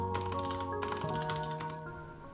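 Fingers type on a Logitech Pop Keys keyboard paired with an iPad, giving a soft, quick patter of key clicks close by, under a steady tonal hum.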